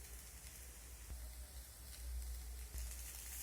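Ghee goes into hot chira pulao in a pan, giving a faint, steady sizzle that crackles softly throughout with no voices.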